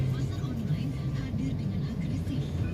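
Low, steady hum of congested morning traffic on a Medan city street near an intersection, idling and crawling engines forming a continuous drone while someone talks over it.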